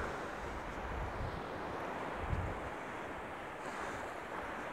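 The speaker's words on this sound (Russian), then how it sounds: "Море шумит, успокаивает." Sea surf rolls onto the shore at Vityazevo on the Black Sea in mid-autumn, a steady, enveloping wash of waves with wind rumbling across the microphone, close and without voices.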